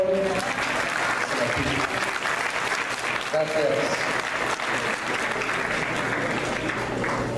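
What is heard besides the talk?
audience applause for a priest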